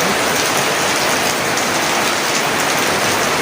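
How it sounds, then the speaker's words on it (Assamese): Heavy rain pours down in a village in a continuous loud wash of drops striking surfaces, unbroken and close by, with no talking. "পুৰা বৰষুণ দি আছে"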